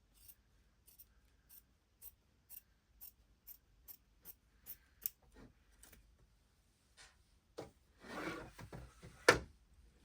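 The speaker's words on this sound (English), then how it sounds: "I'm just trimming it to about 3/16 of an inch." Scissors trimming leather for a wallet, a series of crisp, evenly spaced snips close up, followed by softer rustling and handling of the leather and a final sharp snip, with no talking.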